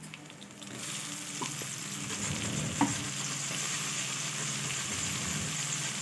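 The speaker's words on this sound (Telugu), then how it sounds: "చిన్నగా కట్ చేసుకున్న టమాటా ముక్కల్ని కూడా వేసుకుందాము" Chopped tomato pieces drop into a hot frying pan of cauliflower curry base, giving a steady close sizzle with a brief burst near the middle and light stirring, no voices.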